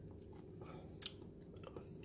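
Someone chews while tasting a thick banana coffee smoothie. Soft, close, wet mastication sounds with a few crunchy bites sit over a steady low hum, and nobody speaks.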